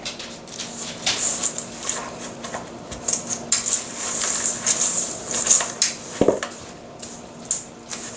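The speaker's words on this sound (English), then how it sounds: "We are now going to mix this all together." Cookie dough with milk chocolate M&Ms being mixed in a bowl, with irregular clinks, scrapes and crunchy knocks of a utensil against the bowl, fairly close and uneven in rhythm.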